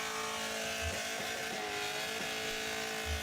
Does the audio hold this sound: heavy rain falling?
no